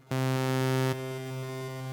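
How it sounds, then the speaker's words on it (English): A plain, mild overdrive effect from Cubase 14 on a sustained harmonic tone, steady and fairly loud for most of a second, then dropping to a quieter, thinner continuation. "So we've got a straightforward overdrive. Certainly not vicious."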